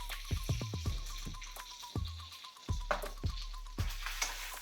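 Ginger-garlic paste hits hot oil with cumin seeds for a Gujarati-style brinjal and potato curry, giving a steady close sizzle broken by several sharp spoon clinks and stirring scrapes against the pan.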